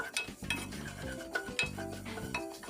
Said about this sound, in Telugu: అల్లం వెల్లుల్లి ఉన్న పచ్చివాసన మొత్తం పోయేదాకా ఫ్రై చేసుకోవాలండి